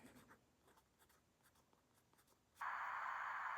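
A pen writes in a paper planner, with soft scratchy strokes close by and faint quiet tapping. Near the end a loud steady hiss or rustle cuts in and continues.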